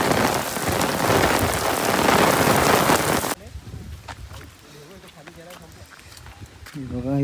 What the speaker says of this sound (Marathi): आता पाऊस पण खूप आहे बघा.